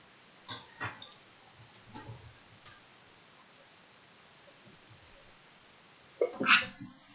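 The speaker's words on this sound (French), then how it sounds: "Je vais un peu éternuer dans mon coude." Faint scattered clicks and taps in a quiet room, then one sharp, close sneeze near the end.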